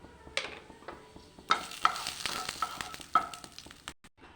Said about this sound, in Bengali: এবার ডালে ফোড়ন দেবো